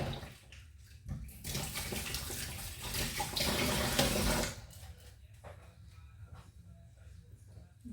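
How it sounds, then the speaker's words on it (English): A tap runs for a few seconds while hands are washed, a rushing splash that rises and then cuts off, followed by quieter handling noises nearby. "I just need to wash my hands again."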